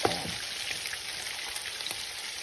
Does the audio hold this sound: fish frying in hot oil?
yes